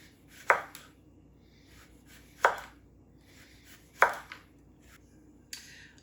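A knife slices cucumbers very thin on a cutting board, giving three crisp, close taps spaced roughly a second and a half apart with a fainter fourth, alone over quiet background.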